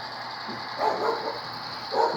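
Small dog barking twice in short bursts, moderately near, over a steady hum from a model train motor running on a layout.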